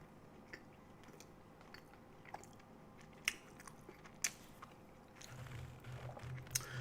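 Close, quiet bites and chewing on a cookie during a lunch livestream, with scattered crisp crunches and a couple of sharper cracks, followed by a low murmur near the end.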